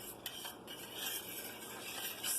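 A spoon stirs crab soup with cream of mushroom in a pot, producing faint, continuous scraping and soft metallic clinks with a low background hiss.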